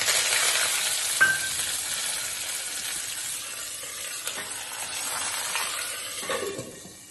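Lentils, dry red chillies and curry leaves fry in hot oil for a tempering, a steady close sizzle with bursts of crackle and a few sharp pops throughout.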